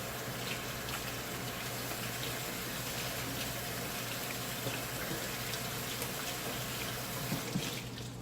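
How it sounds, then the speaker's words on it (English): A kitchen faucet runs steadily while hands are washed under it, a constant, moderately quiet rush of water with faint splashes, and a low hum beneath throughout; no voices. "let me wash my hands here"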